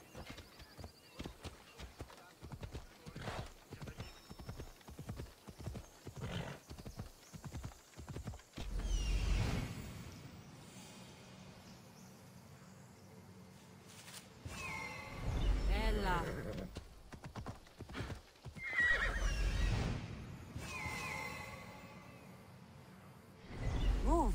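A horse gallops in Assassin's Creed Odyssey: steady clip-clop hoofbeats drum quickly for several seconds, then a whinny and rushing movement sounds follow. A voice talks over it at intervals.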